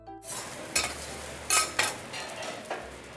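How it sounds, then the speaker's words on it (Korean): Garlic fried rice being stir-fried by a chef on a teppanyaki grill at a Kawabe teppanyaki restaurant, with a steady sizzle and several sharp scraping clacks of a spatula on the hot plate, close and without talk. "지금 셰프님이 볶고 계신 건 마늘 볶음밥인데"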